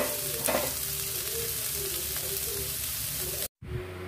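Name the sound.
sautéing capsicum, ginger, garlic, green chili and onion in pan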